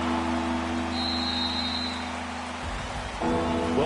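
Steady rain hiss falls during a PS4 football game, a dense even wash heard beside low tonal game hums and a brief high whine; no one speaks.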